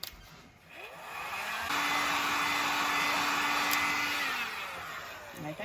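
Hair dryer heat-setting a finish on a DIY furniture flip project, a steady broadband blowing whoosh with a faint whine, starting softer and holding loud and constant for several seconds before easing off near the end.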